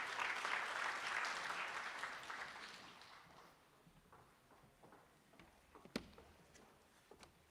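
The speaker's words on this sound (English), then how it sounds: "Let's give them a round of applause as they approach." A crowd at a national parole review summit breaks into a round of applause. The clapping starts full and dense, then thins out and fades, leaving a few scattered claps and knocks near the end.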